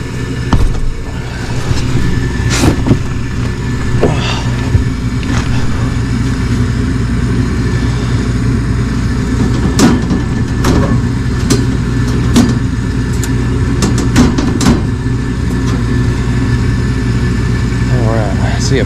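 An old gas furnace runs with a steady, loud low rumbling hum, a constant droning motor sound with occasional clicks and knocks, while someone talks over it at times.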